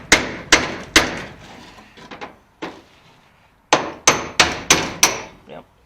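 A chisel is hammered through spot welds on a car floor pan, sharp metallic strikes in a quick series, then a few scattered blows and a pause, then another rapid run of ringing hits, loud and close.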